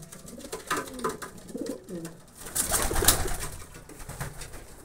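Pigeons coo close by, a male courting a barred female, with soft throaty rolling coos and some wing shuffling in a quiet loft.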